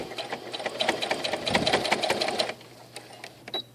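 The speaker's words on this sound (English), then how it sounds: "Once you get to the very edge, you're going to back stitch and sew right off." A sewing machine runs steadily, stitching an apron's under-arm fabric seam in a fast, rattling burst of about two and a half seconds. It then stops, leaving faint clicks and handling noise.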